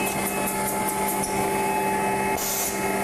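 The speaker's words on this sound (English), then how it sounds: "I have sheets here with black toner going into the machine. The foil's being applied." A Digifav B2 foiling machine runs as toner-printed sheets feed through and foil is applied, a steady mechanical hum with tonal whine and a few light rhythmic clicks and a brief rustling burst near the end.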